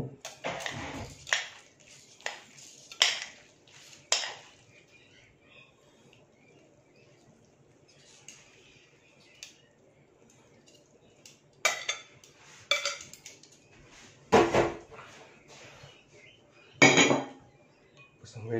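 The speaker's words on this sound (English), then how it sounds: "Put it on the plate." Noodles are served onto a plate with cutlery scraping and clinking against dishes, in several separate bursts of clatter between quiet pauses.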